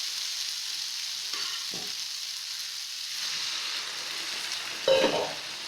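Masala frying and sizzling in a pan for an aloo paneer curry as water is poured in, a steady hiss with brief splashy bursts, the loudest near the end.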